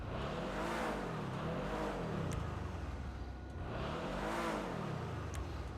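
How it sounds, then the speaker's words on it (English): With a turbo fitted, the Annis Hellion in GTA V revs repeatedly, two loud close engine sweeps climbing and falling in a regular wave pattern, with light whooshing accents between them and no talking. "Let's go straight to the turbo."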